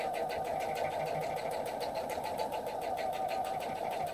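A sewing machine stitching a small patriotic quilted mug rug hums steadily with a fast rhythmic needle chatter, close and continuous throughout without pause.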